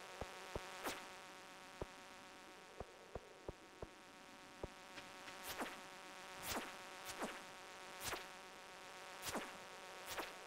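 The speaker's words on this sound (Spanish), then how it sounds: "Que hay una abeja." A bee in the Stardew Valley mine buzzes in soft repeated swells from mid-clip on, among sharp game clicks and a steady electronic background hum, with no talking.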